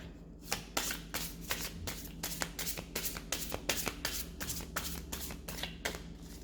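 Oracle card deck being shuffled by hand: a rapid run of close, crisp riffling taps and flutters, repeating steadily throughout.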